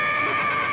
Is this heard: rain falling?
no